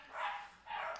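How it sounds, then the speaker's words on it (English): Small wolves, like pups, let out two short bursts of growling, angry dog-like barking, each lasting a few tenths of a second, sounding muffled as if coming from the next room. "Like loud, angry dogs in the next room."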